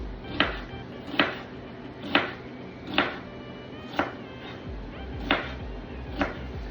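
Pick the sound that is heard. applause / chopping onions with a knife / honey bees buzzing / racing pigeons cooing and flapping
chopping onions with a knife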